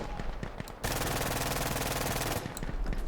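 Rapid automatic rifle fire in Insurgency: Sandstorm during a recoil test at about 20 meters, a loud continuous burst of shots with a few scattered single rounds before and after.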